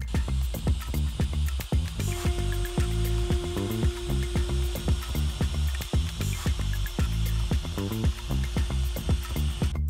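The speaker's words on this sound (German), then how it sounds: "ich zeichne mir mit dem Gravierfräser quasi an, wie groß die Form sein muss" Rotary engraving bit running on a small pocket-workshop multitool, scratching through paint to mark out a shape: a steady high motor whine with a sustained tone and dense rapid ticking, continuous and close.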